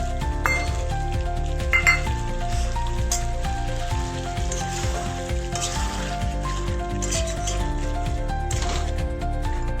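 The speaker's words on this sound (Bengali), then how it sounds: "এইবার যে কেটে রাখা টমেটোটা আছে সেটা আমি এই চিকেনের মধ্যে দিয়ে দিলাম।" Chicken and chopped tomato sizzle and crackle steadily in a hot pan for chicken curry with potatoes, with a spoon clinking and scraping against the pan as it is stirred close by.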